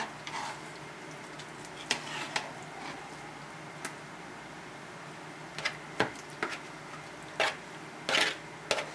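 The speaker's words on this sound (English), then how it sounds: "I'm going to go ahead and add my shrimp now" Shrimp cooking in a pot of jambalaya give a soft, steady sizzle, broken by scattered scrapes and clinks of a utensil against the pot.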